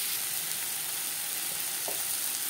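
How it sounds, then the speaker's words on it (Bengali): Chopped onions and tomatoes fry in refined oil in a pan for a spicy fish curry, giving a steady, even sizzle close by with no voices. "এবার দিয়ে দিলাম পেঁয়াজ টমেটো"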